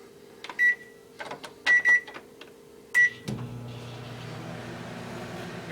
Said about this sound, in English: you put it in the microwave